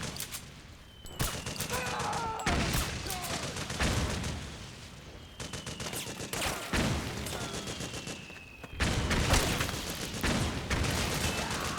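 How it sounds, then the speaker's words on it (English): Machine gun fire in the video game Metal Gear Solid, dense rapid bursts of shots alternating with brief pauses, loud and continuous through most of the stretch. "Ah, da ist das MG."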